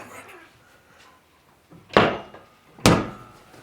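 A folding wall-mounted squat rack being pulled down into place in a garage, landing as two heavy, close thuds about a second apart after a short stretch of soft handling noise.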